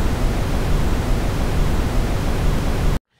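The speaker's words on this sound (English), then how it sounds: "So here's just the noise we have right now." Raw noise from the Helm synth, a steady broadband hiss like pink static, loud and unchanging for about three seconds before cutting off abruptly, with no voice.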